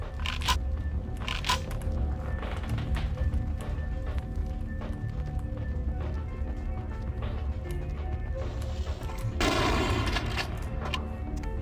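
Shotgun blasts in the vampire RPG Vampire: The Masquerade – Bloodlines, a few sharp booming shots spaced irregularly over dense game noise and ambience, with a bigger burst of fire near the end.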